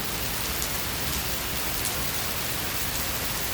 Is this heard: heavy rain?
yes